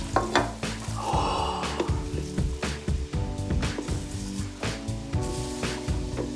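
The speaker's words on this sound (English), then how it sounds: "we add the popcorn to the color, 2 to 3 cups at a time. And we stir quickly to spread the color around" Popcorn being stirred quickly into colored sugar syrup, with repeated sticky scraping and crackling, uneven stirring strokes, and a brief sizzling hiss near the start.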